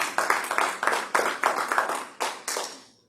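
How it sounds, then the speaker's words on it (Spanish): A Spanish-speaking church congregation claps together in praise during a service: about ten sharp, evenly spaced claps in a steady rhythm, close and fairly loud, with no voices. "Denle un aplauso a nuestro Dios."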